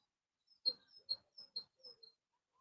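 A few faint bird chirps, short sharp calls in an uneven series, sounding distant against an otherwise quiet background.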